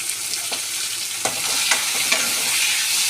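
Carrot, onion, tomato, capsicum and curry leaves sautéing in a hot pan, a loud, steady sizzle with occasional stirring scrapes, close up and without talk.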